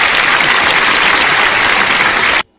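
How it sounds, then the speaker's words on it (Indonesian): Loud audience applause fills a religious discussion forum, a dense steady wash of clapping that cuts off abruptly near the end. "Tepuk tangan buat Bang Damar."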